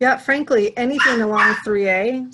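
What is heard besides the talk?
dog barking in the background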